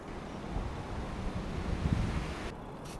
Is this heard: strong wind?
yes